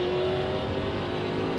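NASCAR Cup Series race cars accelerate hard off a restart, a dense, loud, continuous roar of V8 engines with steady revving and no voices.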